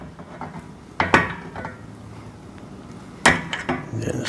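A long bolt is fitted into the iron steel frame of a garden park bench, with sharp metallic clanks and knocks in two clusters over a quiet background, no speech.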